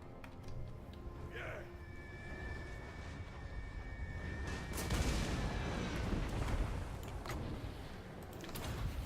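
Artillery fire and explosions from a Total War: Warhammer II battle, a dense rumbling barrage of booms with a louder burst near the middle, continuous and fairly loud throughout.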